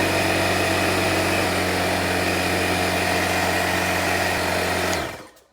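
A DEWALT 6-gallon pancake air compressor runs with a loud, steady motor drone and harmonic hum, then cuts off abruptly near the end.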